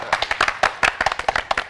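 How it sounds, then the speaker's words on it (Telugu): A few people clap loudly and quickly on a comedy skit stage, each clap sharp and close, in a brisk, slightly uneven rhythm. "అరే గట్టిగా చప్పట్లు కొట్టరా"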